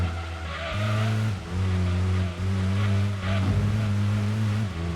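A V8 race car with a muffler in Gran Turismo 2 on the PS1 drones steadily at close range, a low engine tone that shifts pitch through gear changes and brief dips, with no one speaking.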